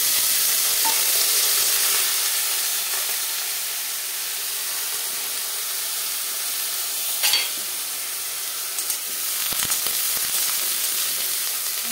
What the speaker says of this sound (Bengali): এই তেলে আমি বেগুন ভেজে নেব।